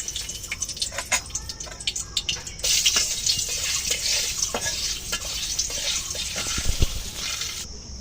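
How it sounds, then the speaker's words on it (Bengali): Bay leaves drop into hot oil for tempering a Bengali crab curry, giving a steady sizzle and crackle with scattered scrapes and clinks of a spoon, close and moderately loud. "এখন আমি ফোড়নে দিয়ে দেবো তেজপাতা"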